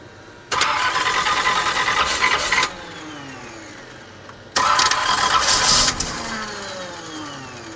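A 1969 GMC truck engine cranks over twice after 30 years unused, each burst a loud, grinding starter whir of about two seconds, with a fainter rumble and rising tones between attempts.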